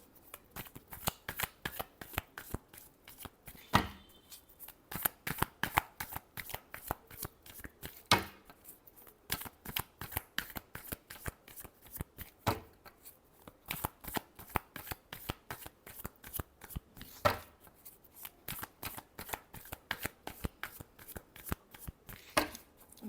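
Tarot cards are shuffled by hand again and again in quick riffling bursts, each a fast crisp flutter of slapping cards, close and fairly quiet, with a few louder taps between them.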